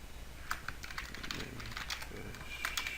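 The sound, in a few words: typing on a computer keyboard into a search bar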